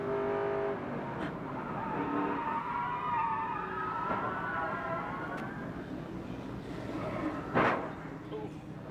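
A NASCAR race car on throttle at Nazareth Speedway during a 1996 Xfinity Series race, its engine a sustained, wavering roar with shifting pitch, heard from onboard, with a brief sharp burst near the end and faint voices underneath.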